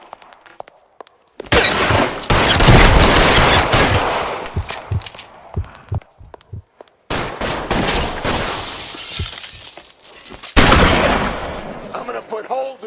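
Bursts of gunfire in L.A. Noire, loud and close, rapid volleys of shots over several seconds broken by short pauses, with a voice talking among them.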